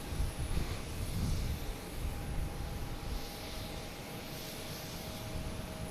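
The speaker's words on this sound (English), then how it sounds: "that JetBlue is off to Philly" A JetBlue jet airliner takes off from Boston Logan bound for Philadelphia, a distant, broad rumbling roar that swells slightly and then eases, steady and without voices.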